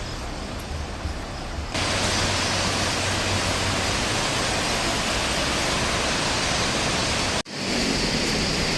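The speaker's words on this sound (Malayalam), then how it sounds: "താഴെ വെള്ളം ഒഴുകുന്നു" River water rushes steadily beneath a bridge in Kutaisi, Georgia, a close, dense hiss that swells after a softer opening and cuts out abruptly for a moment before resuming.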